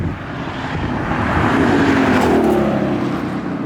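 Dodge Charger Scat Pack widebody with a very loud aftermarket exhaust drives by, its deep roar building to a peak and then easing off.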